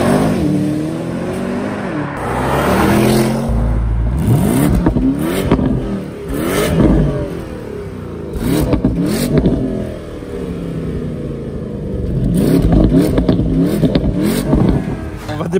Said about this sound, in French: Cyril, ça donne quoi ce gros V8 biturbo ?